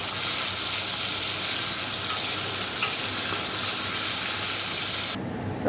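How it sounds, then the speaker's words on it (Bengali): Shrimp fry in hot mustard oil in a wok, giving a steady, dense sizzle that runs loud and unbroken with a few faint pops, then drops off abruptly near the end. "এবারে চিংড়ি মাছটা আগে ভেজে নেবো"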